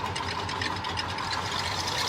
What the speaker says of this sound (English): There's a big exhaust leak at the intake manifold.